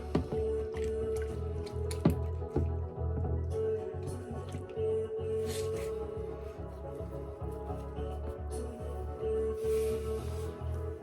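Water drips and squishes around a shaving brush soaking in a bowl before a straight razor shave, with close, irregular small drops and a low wet churning over several seconds.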